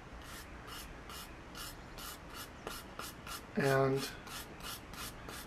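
Brass and steel brushes scrape back and forth across dry softwood in quick, regular strokes, a soft rasping rhythm close by, with someone speaking briefly over it.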